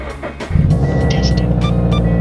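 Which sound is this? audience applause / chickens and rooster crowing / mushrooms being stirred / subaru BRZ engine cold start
subaru BRZ engine cold start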